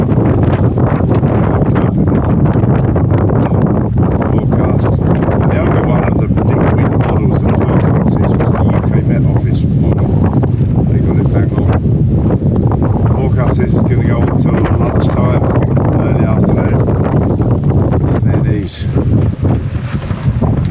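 Strong gusty wind blows around a sailboat lying at anchor, a loud continuous rushing and buffeting roar that stays steady throughout with little variation.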